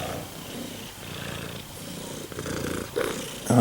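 Low, steady purring from a domestic cat resting indoors during a snowstorm, a continuous soft rumble held close by that swells a little louder toward the end.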